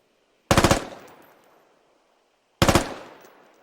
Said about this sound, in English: you push it down once, it goes to automatic fire